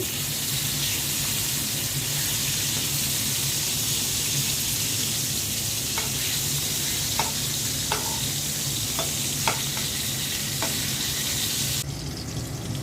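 Hilsa fish fries in oil in a frying pan, a steady, dense sizzle with a few light clicks and taps from the pieces being turned, continuing close up with no talking.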